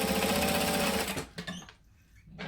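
A sewing machine runs a steady, rapid top-stitching burst through a bag lining, then stops, leaving only brief faint handling sounds.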